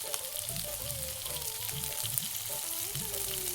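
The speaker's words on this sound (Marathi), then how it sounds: "कांदा तेलामध्ये छान सॉफ्ट होईपर्यंत परतून घ्या." Chopped onion, two onions' worth, fries in hot oil, a steady close sizzle with soft stirring scrapes and occasional pops throughout.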